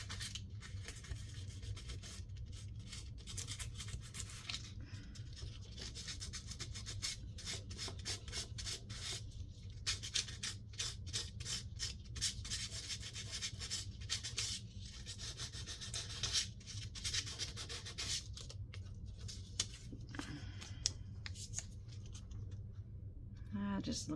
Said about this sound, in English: I wonder if I could sand that a little bit